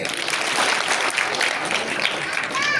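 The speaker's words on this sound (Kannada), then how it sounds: "ಈಗ ನೀವೆಲ್ಲ ಚಪ್ಪಾಳೆ ಹಾಕ್ರಿ" Schoolchildren in a government-school audience clap together at a science show, a dense, lively patter that runs steadily and fairly close throughout, with some voices mixed in.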